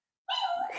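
A dog lets out a single drawn-out bark near the microphone, sudden after silence and lasting about half a second, during a quiet indoor guided tapping session.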